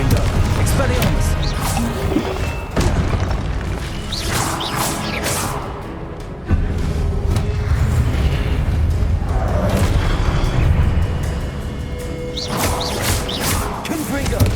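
Repeated booming spell blasts and whooshes from Confringo fire in Hogwarts Legacy combat, loud and dense, recurring throughout with a player's voice calling out over them.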